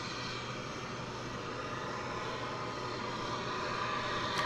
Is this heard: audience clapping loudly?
no